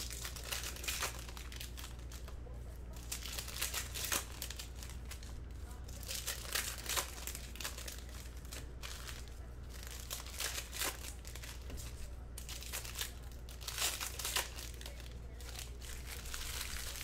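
Foil wrapper of a Panini Donruss Optic baseball card pack being torn open, a steady run of close crinkling and ripping rustles with a low background hum.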